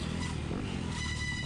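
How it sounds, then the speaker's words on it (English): A dirt bike engine revs at a motocross race, a loud, steady, buzzing drone close by that fills the whole clip with no talk. "even revved at me a little bit"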